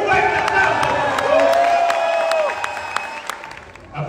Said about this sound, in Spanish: Recibamos con un fuerte aplauso a nuestro amigo Tío López Obrador